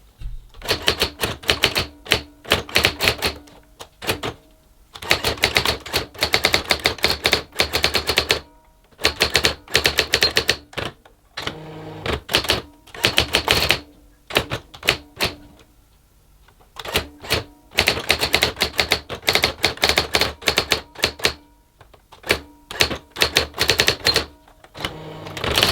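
A Brother AX-15 electronic typewriter with an old ribbon types in rapid bursts of sharp mechanical clatter, several seconds each, separated by short pauses, close and steady throughout.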